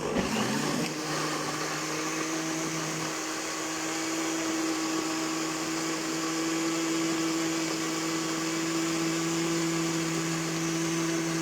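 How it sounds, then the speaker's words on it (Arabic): A blender purees tomatoes, whirring steadily at close range, a constant motor drone with a grinding edge that holds without pause. "وهنا نضرب الطماطم بتاعتنا في الخلاط."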